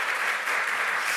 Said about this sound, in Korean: 우리 격려 박수 한번 올려드릴까요?